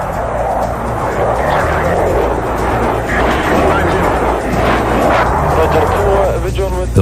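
An F-16 Fighting Falcon jet on a bombing attack run, its engine a loud, steady broadband roar that holds throughout, with someone narrating over it.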